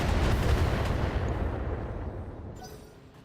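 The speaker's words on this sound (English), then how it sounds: "So missiles come in. That's a ton of damage." A barrage of missiles slams into a mech in the Battletech video game, a dense rumble of overlapping explosions that starts loud and gradually fades away over a few seconds.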